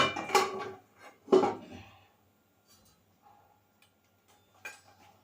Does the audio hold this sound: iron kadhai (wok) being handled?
yes